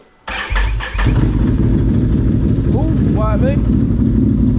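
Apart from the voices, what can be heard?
four-wheeler engine cranking in cold weather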